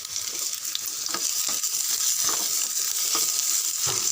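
Onions, ginger, garlic and a small lump of tamarind sizzle steadily in a pan for onion chutney, a dense continuous hiss with scattered soft stirring scrapes, close and fairly loud throughout.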